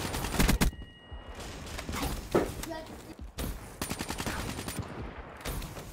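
Gunfire in Call of Duty: Black Ops 3, sharp bursts of rapid shots in several clusters separated by brief pauses, fairly loud in the foreground.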